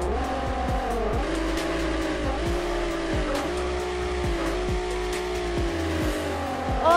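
Simulated car engine in the Driving School Sim video game, revving hard and continuously with repeated rising and falling pitch sweeps and faint crackling pops, loud and steady throughout with no talk.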